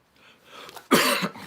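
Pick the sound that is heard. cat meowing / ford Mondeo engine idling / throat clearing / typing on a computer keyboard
throat clearing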